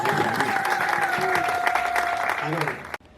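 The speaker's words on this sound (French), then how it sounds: "Donc on peut déjà commencer à applaudir pour monsieur." Guests at a civil wedding ceremony clap for the groom, a dense, lively round of applause with murmuring voices and a sustained tone underneath, cutting off abruptly near the end.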